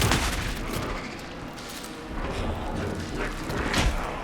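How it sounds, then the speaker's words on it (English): Gunfire in the video game Alan Wake 2, a burst of repeated shots and booms in a dense, noisy scene, loud and close with shots clustered near the start and end. "Anderson, pin him down with gunfire for me to get the light on him."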